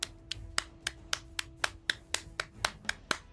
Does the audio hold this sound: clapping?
yes